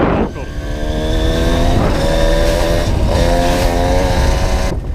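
A Yamaha DT 125R dirt bike engine hums loudly and close off-road, with rising and falling revs and a harmonic whine as it holds steady, then cuts off sharply at the end.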